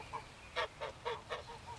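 Geese hissing and honking in a backyard pen, staged as a radio drama effect: a run of five or six short, raspy calls in quick succession, fairly quiet and close, with no talking over them.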